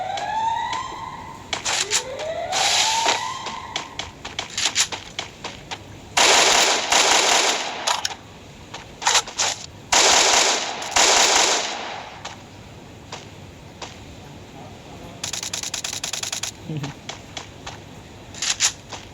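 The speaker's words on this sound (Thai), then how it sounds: "ทำไมทีมเดียวกันยิงกันได้วะ" Gunfire in the video game Free Fire: repeated loud bursts of automatic fire in clusters, with rising siren-like tones early on and brief gaps between volleys.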